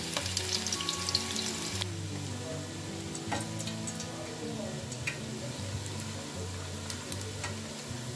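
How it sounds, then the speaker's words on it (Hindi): Chopped onions sizzling in oil in a cooking pot, a steady frying crackle with occasional spoon stirs and clinks, heard under soft background music. "यहाँ नॉर्मल साइज़ की 2 प्याज काट के चॉप करके पतीले में डालती हूँ। मैं हल्का सा गोल्डन कलर देंगे"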